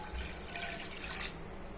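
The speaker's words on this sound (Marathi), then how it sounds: "कढईमध्ये पाणी टाकत आहे।" Water pours steadily from a vessel into an oiled nonstick kadhai in a home kitchen, a bright continuous splashing stream heard close and alone for under two seconds.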